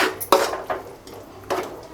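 Eggs fried and stirred in a pan for street-style egg rice, with a spatula scraping and knocking against the metal in irregular strokes, close and fairly loud, no voices.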